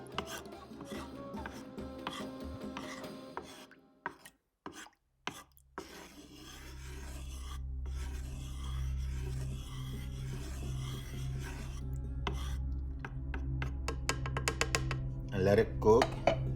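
A spoon scrapes and stirs roasted beets around in a dish, producing irregular close scraping and rubbing sounds with a few clinks of metal on the dish, partly under low background hum.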